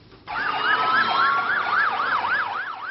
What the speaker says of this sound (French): Où qu'on soit dans la ville, on ne peut échapper aux hurlements des sirènes.